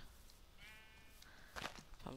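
Sheep in a Minecraft-style modded game bleat with one short wavering call midway, followed by brief louder bursts that resemble speech-like noise near the end, all fairly faint.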